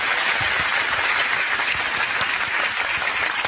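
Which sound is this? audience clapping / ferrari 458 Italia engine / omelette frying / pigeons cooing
audience clapping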